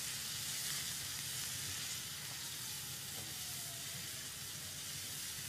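Masala fries in a pan for a tadka for mash daal, a continuous soft sizzle and hiss that stays even and fairly faint throughout.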